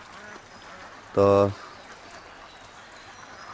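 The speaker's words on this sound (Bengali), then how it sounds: "মূল উদ্দেশ্যটা হইল এই হাঁসগুলি, এখানে 1000 হাঁস" A single loud duck quack bursts out briefly among a flock of about a thousand ducks kept at a fishery pond, with faint background noise around it and a short spoken word.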